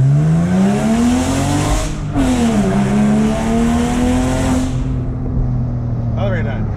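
A Porsche sports car engine revs hard and loud with rising pitch, drops sharply at a gear change, then climbs again before easing off, with voices faintly underneath.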